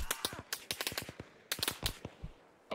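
Arma Reforger rifle fire, a rapid run of distinct sharp shots in clustered bursts, fairly close and punchy, with short pauses between volleys.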